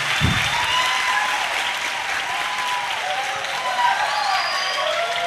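Audience applause at a pesantren milad logo launch event in Indonesia, a dense steady clapping crowd filling the hall throughout, loud and continuous with no pauses.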